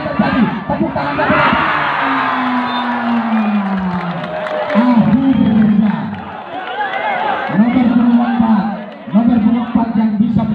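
A volleyball match crowd roars and cheers with shouts and whoops, loud and continuous, while a commentator's voice talks over it.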